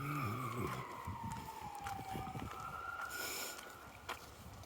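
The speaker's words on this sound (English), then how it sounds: "I heard something that sounded like a police car somewhere over in there." A distant police car siren wails faintly on a snowy city street in Dartmouth, its slow rising and falling tone drifting under traffic and town noise.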